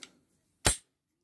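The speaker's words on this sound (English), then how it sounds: "once the slide stays back, you just get your mags down a bit and it comes back on its place." The slide of a Retay P114 pistol snaps forward once, producing a single sharp, close metallic crack after a faint click, followed by silence.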